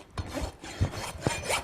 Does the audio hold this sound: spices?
no